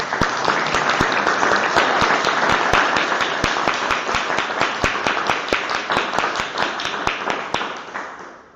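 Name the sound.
audience applause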